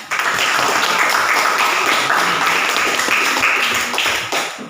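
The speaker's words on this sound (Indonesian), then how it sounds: "kita beri tepuk tangan ya" Students in a classroom clapping together after a correct answer about tolerance, a busy, fairly loud patter of hands sustained for several seconds then tapering off.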